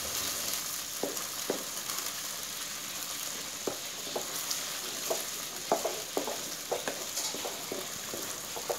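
Spaghetti white cream sauce being stirred and tossed in a pan, with a steady sizzle and soft repeated scraping clicks of a utensil against the pan at an uneven rhythm, close and moderately quiet.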